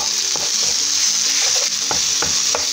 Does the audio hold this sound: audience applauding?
no